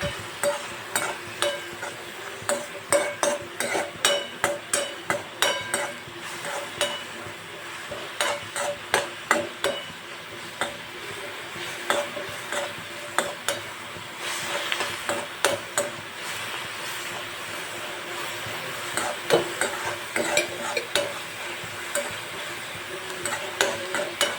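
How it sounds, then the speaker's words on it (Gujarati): Fenugreek leaves cook in a pan with salt while a spoon stirs them constantly, making rhythmic scraping knocks against the metal over a light, steady sizzle, close and fairly loud. "હવે આપણે મેથીને સતત હલાવ્યા કરવાનું છે।"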